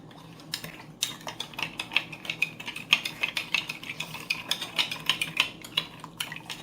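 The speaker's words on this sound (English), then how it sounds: "I want to dissolve the milk in the sugar." A spoon stirs milk into sugar in a bowl for Ghana rock buns, producing close, rhythmic clinks and scrapes against the bowl, repeating roughly every half second, fairly quiet with no talking.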